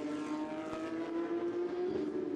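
A Porsche Carrera Cup race car passes during qualifying at Oschersleben, a sustained high engine whine whose pitch rises slightly as it goes by, heard at moderate distance with no talk.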